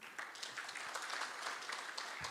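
An audience at a gala dinner claps for finalists, a faint, even patter of many hands heard from a distance throughout.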